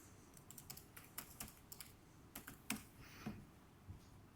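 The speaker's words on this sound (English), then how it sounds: "I'll just do some fast typing" Fast typing on a laptop keyboard, with quiet irregular bursts of key clicks and taps close by and no voices, all fairly faint.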